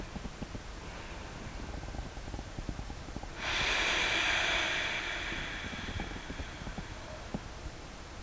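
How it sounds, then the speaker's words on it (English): A single long, deep exhale during a yoga session rushes up close to the microphone, set against otherwise quiet room tone and faint ticking. "Take a breath here."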